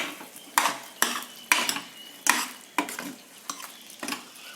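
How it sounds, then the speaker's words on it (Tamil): A spoon scrapes and knocks against a metal pot of mutton gravy in a steady rhythm of sharp clinks with swishing between, close by and no talking. "இது போட்டு நல்லா கலக்கி விட்டுலாம்."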